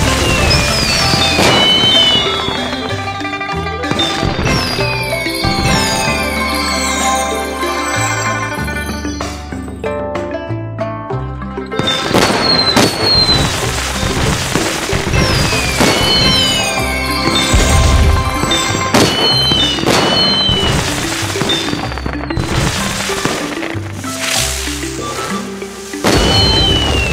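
Fireworks burst in an animated cartoon about a Chinese holiday, with scattered crackling bangs mixed into bright, busy music that plays throughout.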